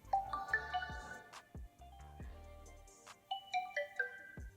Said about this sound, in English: You can change the sound effects from here.